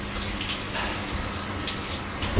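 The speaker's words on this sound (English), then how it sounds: "curiosity got the best of me with the coin-operated shower" Steady hiss of running water from a coin-operated shower, a continuous close spray with a brief thump at the end.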